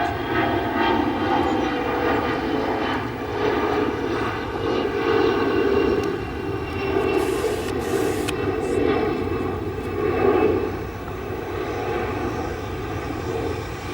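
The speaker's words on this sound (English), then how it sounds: "Got a CRJ 200 departing. In the SkyWest house colors." A SkyWest CRJ 200 regional jet departs O'Hare, its engine roar a steady, loud broadband rumble that holds for the whole stretch with mild swells and no talk.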